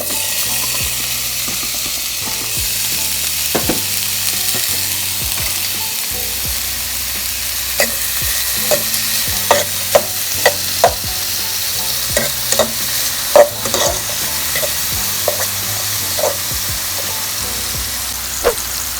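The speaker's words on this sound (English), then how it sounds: "let's just throw in our seasoning and then saute it" Bok choy with seasoning sautés Jamaican-style in a pan with a loud, steady sizzle. Repeated spatula clacks and scrapes against the pan come in bursts and grow busier toward the middle, with no talking.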